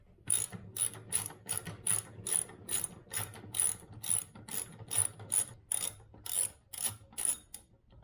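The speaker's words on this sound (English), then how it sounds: "you just back the nut off and then take the screw out of the center" A hand ratchet backs a nut off a screw in a hardened insert in a drilled block. It gives a quick, regular run of close, crisp clicking bursts, about two strokes a second, with no talk.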